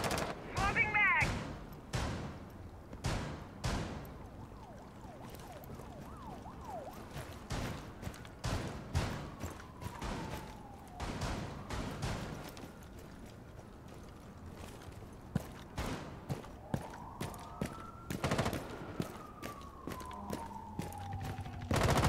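Rapid gunfire bursts and single shots crack through a round of the tactical shooter Rainbow Six Siege, loud and repeated across the stretch, with players talking over the shooting.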